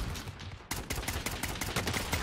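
Gunfire from a ZRG sniper rifle in Warzone, loud close shots cracking in quick succession and building into a dense, continuous volley.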